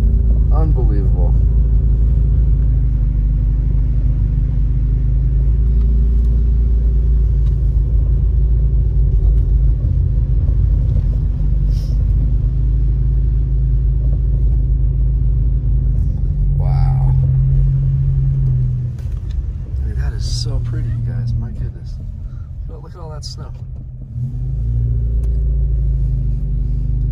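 A car drives along a snowy mountain road in upper Moonridge, Big Bear, California, its steady low rumble of engine and tires running throughout while people talk over it.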